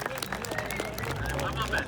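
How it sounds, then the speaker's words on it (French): An event audience applauds a car, a quick patter of many hands clapping beneath someone talking over it, short and fairly close. "On peut l'applaudir, en tout cas, il est une chouette bagnole."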